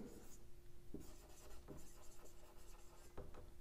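Writing on a board during a chemistry lecture: very faint strokes and a few short taps over a low steady hum, with no other sounds.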